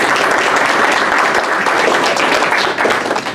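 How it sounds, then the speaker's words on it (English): Loud, dense audience applause at a city council meeting honouring art contest winners, a full sustained clatter of many hands close by with no break. "we'll give them a round of applause whether they're here or not"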